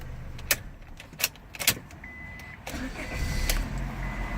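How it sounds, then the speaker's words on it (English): A 2000 Honda Accord is started with a few clicks and key jangles, then its engine turns over and settles into a steady, low idle close by. "as we can see, the engine is already running"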